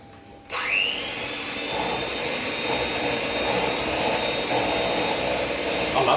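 An electric hand mixer beats egg yolks and sweetener for a raspberry clafoutis. It spins up with a rising whine, then holds a steady, close, whirring buzz to the end.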